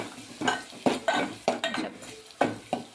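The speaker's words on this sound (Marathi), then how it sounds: "आपण त्याच्यामध्ये आता हा ठेचून घेतलेला ठेचा आहे हा घालून घेऊया आणि त्याला असं चांगलं 1 मिनिटभर हा ठेचा भाजून घेऊया" A spoon repeatedly scrapes and clanks in a pan as crushed green chili thecha is roasted and stirred, in quick irregular strokes with a light sizzle underneath.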